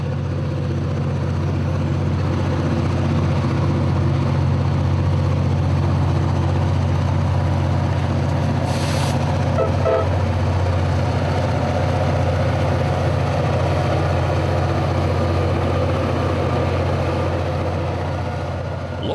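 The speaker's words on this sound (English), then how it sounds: "The sound of EMD engines in Run 8 is unmistakable." EMD diesel locomotives, a GP40-2 and a GP38-2, lug a train uphill in the Run 8 train simulator game, giving a steady, loud low engine drone that holds throughout with no talk.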